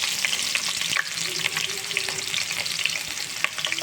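Chopped onion sizzles in hot oil in a kadai with tempering seeds, a steady close crackle with brief stirring scrapes.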